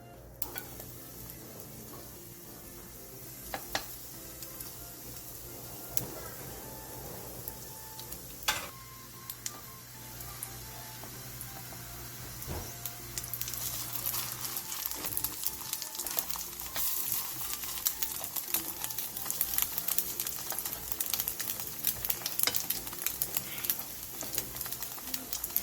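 Bite-sized pieces of batter fry in oil in a pan over medium-low heat, giving a soft steady sizzle that swells louder partway through, with a few light clicks and taps nearby and no talking.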